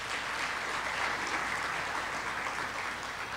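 An audience applauds at a sister city signing ceremony between Accra, Ghana and Columbus, a dense steady clapping that fills the whole stretch without pause, with no one speaking over it.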